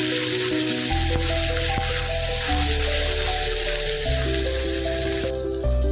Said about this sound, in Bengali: এই ভাজার সময় একটুখানি পেঁয়াজের সাথে দুটো কাঁচা লঙ্কা